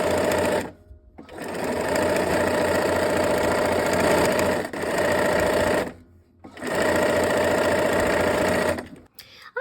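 A sewing machine stitches through fabric in three long bursts of fast, even mechanical whirring, separated by brief pauses, close and loud with no talk.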